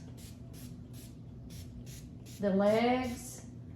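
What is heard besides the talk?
spraying protective finish on bar stools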